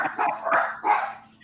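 A dog barks close by, three quick bow-wow barks with a slight whine between them, loud and clear with no talk over it.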